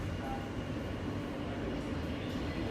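A New York City subway train rumbles steadily on the move, a dense, loud, continuous roar of wheels and carriage noise.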